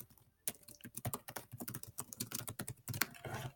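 Someone types a title on a computer keyboard, a rapid, irregular run of soft, close key clicks heard alone at low volume.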